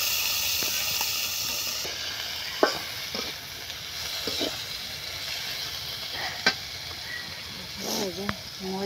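Food frying and being stirred in a pan on a new stove, with a steady sizzle throughout and occasional clinks and scrapes of the utensil, moderately close.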